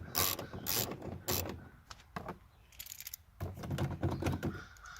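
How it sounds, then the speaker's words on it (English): Ratcheting wrench turning to loosen a bolt on a car's window handle, with bursts of clicking that come in several short runs, close and moderately loud, separated by brief pauses. "start loosening this bolt"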